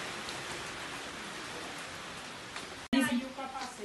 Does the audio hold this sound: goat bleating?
no